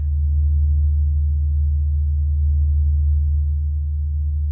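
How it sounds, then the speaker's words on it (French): Low, sinister gurgling rendering of the Sun's sound from rising and falling gas pockets, a steady droning hum that holds at an even, fairly loud level throughout. "Voici le chant du Soleil."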